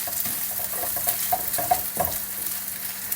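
Spam sizzling and frying in a pan for kimchi fried rice, with a steady hiss broken by several clinks and scrapes of stirring, close and fairly loud, no talking.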